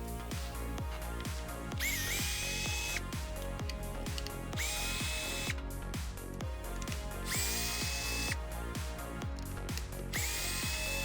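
A small power driver removes the radio box screws on an Arrma 1/10 RC model, its whirring motor pulsing in rapid repeated bursts with a high whine rising at intervals, close and steady throughout.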